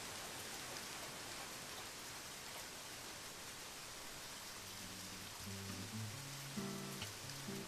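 Steady rain in the game Deadly Premonition at a fishing pier, a soft even hiss of falling drops with a faint low tone rising near the end.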